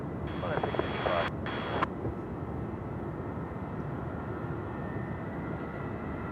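Qantas jet airliner departing Sydney Airport at night, a steady broad engine roar that holds throughout at moderate distance, with brief sharp transients early on.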